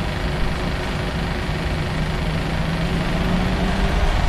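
Aircraft engines in a P3D flight simulator idling steadily during taxi on a flight from Dakar to Lomé, a constant loud low drone with no talking.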